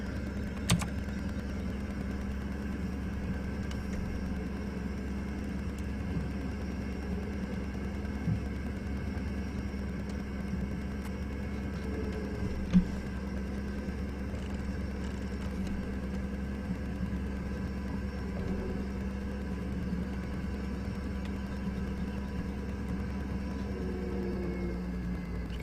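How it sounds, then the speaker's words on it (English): A tractor engine in Farming Simulator 17 pulls a seeder, a steady low droning rumble that holds constant throughout, with faint occasional clicks and no talking. "See how this tractor does in pulling this seeder."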